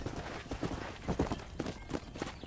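Horse hooves clip-clop in Red Dead Redemption, a steady walking rhythm of fairly close footfalls over low background game ambience.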